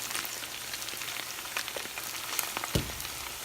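Minced meat sizzling and frying in a pan, a soft, steady crackle with scattered pops and a faint scrape of stirring near the end.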